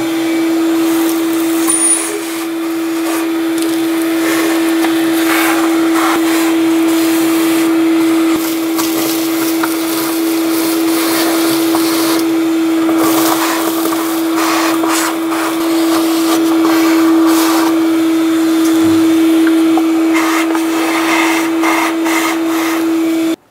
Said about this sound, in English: Using a vacuum, I'm going to clean up all of the debris inside of this valley